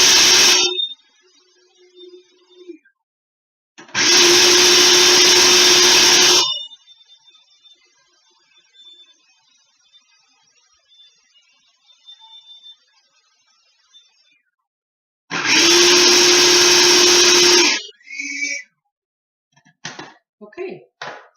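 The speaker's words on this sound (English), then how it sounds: "half a cup of pumpkin seeds, and a quarter cup of ground white chia. So that is just going to go into our food processor." A food processor grinds half a cup of pumpkin seeds and ground white chia into flour, loud whirring bursts in two long pulses separated by quiet pauses, with some clattering at the end.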